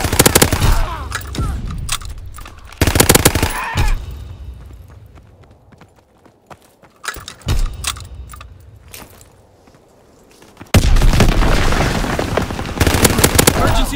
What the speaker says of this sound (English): Call for a strafing run.